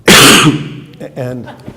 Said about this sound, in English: When you cough up that way. Yeah, That's yeah. right in the mic